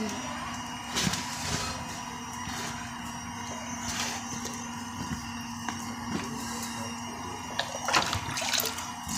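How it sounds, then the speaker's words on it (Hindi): Water trickled little by little into a mixture to form a paste while cooking, a faint intermittent pour and splash over low background hum, with soft clinks now and then. "थोड़ा थोड़ा पानी डालेंगे इसमें"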